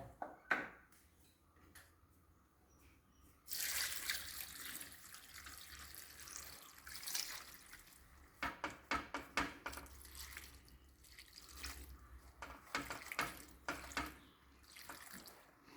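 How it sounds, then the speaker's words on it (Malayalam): A cup of water is poured into a cooking pot while jackfruit upperi is being prepared, with quiet splashing bursts, trickles and a few drips coming in uneven spells, close by and soft. "ഒരു കപ്പ് വെള്ളം ഒഴിച്ചിട്ടുണ്ട് കേട്ടോ"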